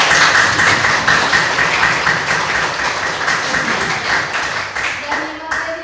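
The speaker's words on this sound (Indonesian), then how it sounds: "Tepuk tangan dulu semua." A room full of people claps together in dense, steady applause that carries on for several seconds before thinning out at the end, with a voice briefly audible near the close.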